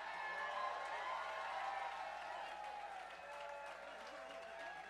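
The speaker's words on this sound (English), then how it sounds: "Give these young people a round of applause for all the work." Sustained applause from a large audience with scattered cheers, a continuous wash of clapping that stays steady before easing slightly.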